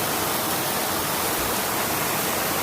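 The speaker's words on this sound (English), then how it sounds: "You want to see waterfalls, this is where you come." Waterfall along a hiking trail in the Old Man's Cave to Ash Cave area, a dense, steady roar of falling water that fills the whole short stretch, close and loud with no voices.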